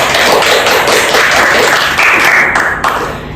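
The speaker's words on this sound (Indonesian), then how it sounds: "Oke, tepuk tangannya dulu dong." Students in a biology class applaud: a loud, close round of many hands clapping that holds steady and then thins out toward the end, with no speech.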